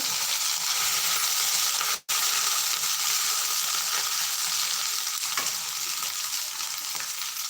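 Bay leaf and dried red chili sizzle and fry in hot oil for a vegetable dish, a steady close hiss with a brief break and a few small clinks, no talking.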